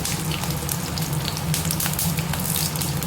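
Peeled garlic goes into hot oil already frying mustard and fenugreek seeds. It sets off a loud, steady sizzle with a crackling hiss that does not let up.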